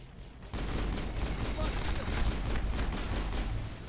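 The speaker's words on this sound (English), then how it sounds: "I'm gonna switch back over to my pistol." Pistol gunfire from a firefight in the sci-fi shooter game Mass Effect 1. The shots come as a dense, steady burst of rapid reports with heavy combat noise, starting loudly after a brief quieter moment and holding close and continuous throughout.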